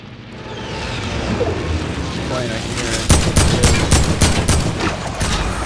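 Fortnite gunfire in a sniper battle: a rising rumble of game noise and voice gives way to a rapid burst of repeated sharp shots in the second half, fairly loud and close.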